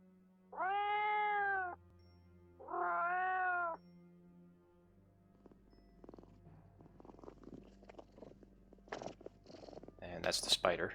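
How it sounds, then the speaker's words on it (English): A cat's purr used as the spider creature sound in the game Daggerfall, two sustained purring bursts of about a second each, loud and close, followed by quieter scattered game noises and clicks. "spider is literally a cat purring."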